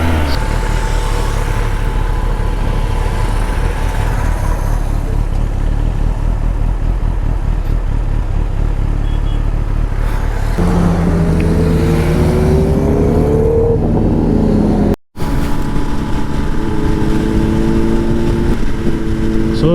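Suzuki Hayabusa superbike fitted with a Brocks exhaust, ridden through heavy traffic on the way up Nandi Hills, its engine droning loud and steady throughout with rising and falling revs, a brief dropout near the end.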